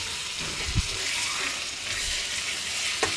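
Garlic paste fries and is stirred in a cooking pan, a steady close sizzle with a few scraping knocks from the stirring, alone without talk.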